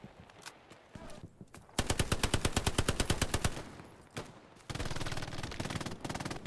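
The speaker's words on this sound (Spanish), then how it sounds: "Cuidado, te están disparando." Machine gun fire in Hell Let Loose, a WWII shooter, coming as long rapid bursts of loud, close shots with brief pauses between them, and faint voices in the background.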